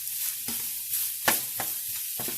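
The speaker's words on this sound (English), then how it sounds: "browning the beef, and I've added the garlic" Ground beef browns with garlic in a pan, a close sizzle broken by repeated scraping stirs with a utensil at uneven intervals.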